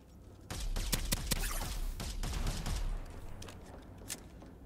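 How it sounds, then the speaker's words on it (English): Grenade launcher fire in the video game Starsiege Deadzone: a rapid burst of loud, close explosive blasts rolls for about two and a half seconds, then trails off, with one last faint pop. "That's a grenade launcher."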